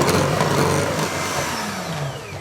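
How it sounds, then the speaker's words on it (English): An electric mixer whirs through cake batter for mini Simnel cupcakes, a close, loud motor drone with wavering pitch as the beaters work the mixture. "I use an electric mixer."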